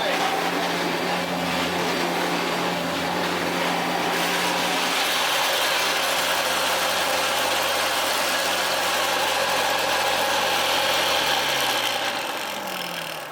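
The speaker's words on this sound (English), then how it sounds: "it's got that beautiful Hitachi whir to it." A Hitachi Powerhouse CV-460D upright vacuum cleaner runs continuously with a loud, steady motor whir and airflow roar, close by, with a slight shift in pitch toward the end.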